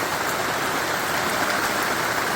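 Heavy rain pours down in a steady, dense hiss, loud and continuous throughout with no pauses or voices.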